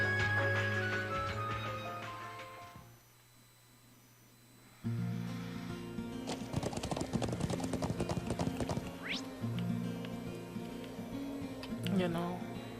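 Horse hooves galloping in the role-playing game Trails of Cold Steel, a steady rapid clip-clop under background music, briefly paused and then resuming. A voice talks over the hoofbeats.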